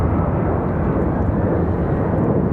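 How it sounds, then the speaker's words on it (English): A Delta Boeing 737-900 airliner moves across the airport, a steady, loud broadband jet-engine roar filling the whole stretch with no voices. "Got a Delta 737 on the move."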